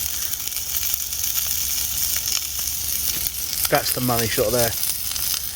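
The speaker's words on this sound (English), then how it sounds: "So that's half a chorizo sausage, just kind of diced up. Listen to the schnizzle," Half a diced chorizo sausage sizzles and fries in a pan at a frosty wild camp, a close, steady crackling hiss, with a short spoken remark near the end.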